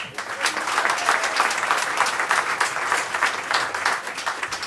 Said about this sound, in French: On peut refaire du bruit pour Yacine, le MC, s'il vous plaît?